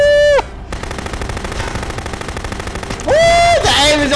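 Rapid automatic gunfire in the Contraband Police video game rattles in a dense, loud burst, framed by sharp siren-like synthetic tones at the start and end.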